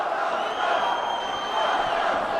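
Sports fans shouting during an archery bout, a steady broadband crowd roar that stays loud and continuous throughout.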